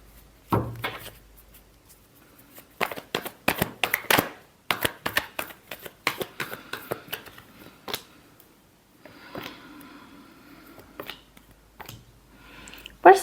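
Tarot cards being shuffled by hand, a run of quick crisp riffling bursts and flicks with short pauses between, close and fairly loud, with a softer continuous rustling stretch near the end.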